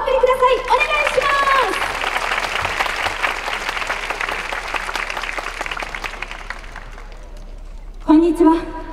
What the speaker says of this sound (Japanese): では大きな拍手をもう一度お送りください